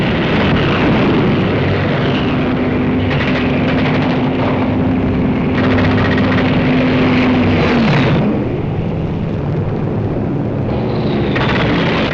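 Wartime fighter planes attacking transport aircraft, a loud continuous roar of aircraft engines with a droning tone that rises and falls, heavy rumbling throughout and no voices.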